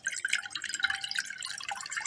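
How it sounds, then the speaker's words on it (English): Cold water from a water cooler runs into a big bowl for potato salad, a steady, close splashing and trickling with quick dripping textures throughout. "I'm gonna take a bowl, a big bowl, and I'm gonna fill it up with cold water."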